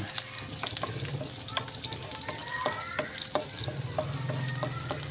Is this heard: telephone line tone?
no